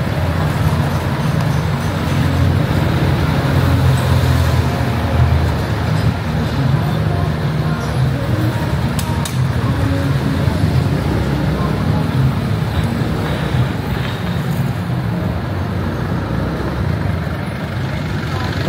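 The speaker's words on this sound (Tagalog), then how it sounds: "Traffic kayo." Dense, steady city street traffic during the Higalaay Festival in Cagayan de Oro, with a loud, unbroken roadway roar and engine rumble filling the whole stretch.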